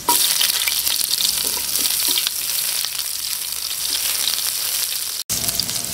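Garlic and onions sauté in a hot pan, giving a loud, dense, steady sizzle close up with faint stirring scrapes and a brief dropout near the end, no voices over it.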